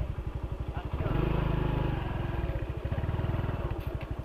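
A motorcycle on a dirt trail near a waterfall runs close by with a steady, rhythmic idle thump, briefly revving up into a smoother drone before settling back to its pulsing idle.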